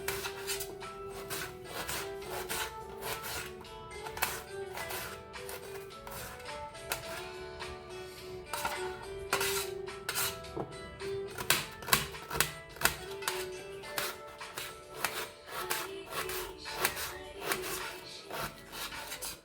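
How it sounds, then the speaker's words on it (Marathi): An onion is chopped with a knife on a board: quick, rhythmic close-up chopping taps in a steady run, fairly soft, with no talk over it. "कांदा कापून घेत आहे."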